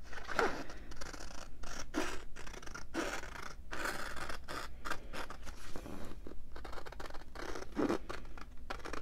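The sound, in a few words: scissors cutting out a paper journal envelope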